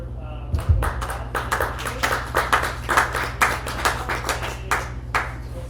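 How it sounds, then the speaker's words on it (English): A small workshop audience claps for a speaker, a modest round of scattered individual hand claps at close range over a low steady hum. "let's give Garland a round of applause."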